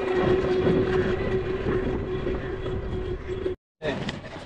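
A loud, continuous rumble of a train at Jaipur railway station with a steady mechanical hum and rattling wheels, close by, cutting out briefly near the end.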